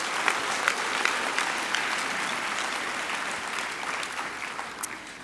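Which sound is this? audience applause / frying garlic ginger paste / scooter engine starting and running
audience applause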